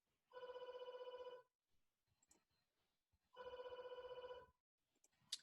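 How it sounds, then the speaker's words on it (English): An electronic bell rings in two separate bursts, each about a second long with a rapid trilling pulse, separated by quiet with faint clicks and rustling. "Sorry, that's my doorbell ringing there."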